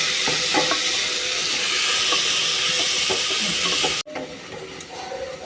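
Onions sauté in a hot pan for chicken curry, a loud steady sizzle with scraping stirs, then a sudden cut to quieter frying.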